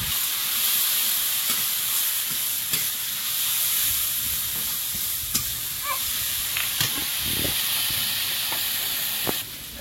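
Spice masala with turmeric, coriander, cumin, green chilli and chilli powder frying in a pan, a steady close sizzling hiss with scattered sharp crackles and stirring clicks.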